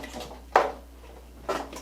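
A super space drum sample is struck once, then again, giving two short bright hits over a faint hazy background wash.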